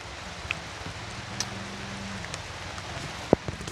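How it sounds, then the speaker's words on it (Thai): Steady light rain falls outdoors, a soft even hiss with a few faint taps and one sharp knock, no voices. "ฝนตก"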